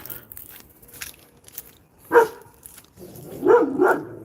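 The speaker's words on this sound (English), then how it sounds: "Neighbor's dog always barking" A dog barks a few times, one sharp bark followed by a longer cluster of barks, fairly close in otherwise quiet surroundings.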